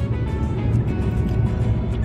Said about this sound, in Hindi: और उस पर हमारी गाड़ी जो है वो चली जा रही है